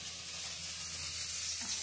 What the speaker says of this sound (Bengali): বেগুন ভাজা করছি শুধু